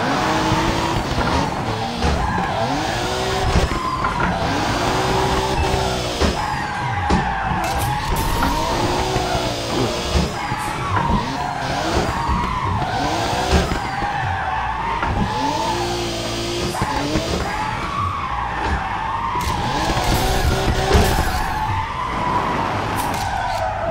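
Car drifting on a track: a loud engine revving up and down continuously while the tires squeal and skid through repeated slides, close and sustained throughout.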